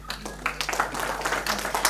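Audience hands clapping at the opening and award ceremony of the 63rd annual art exhibition, a dense patter of claps lasting under two seconds, moderately loud and steady.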